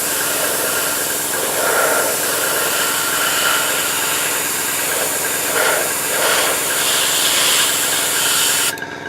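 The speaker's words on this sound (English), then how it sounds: "I thought I'd put my compressor on, excuse the noise" A steady air compressor motor drone runs throughout with a constant hiss, loud and close, cutting off abruptly near the end.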